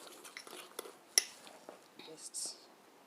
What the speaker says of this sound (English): make sure that all the flour's been mixed in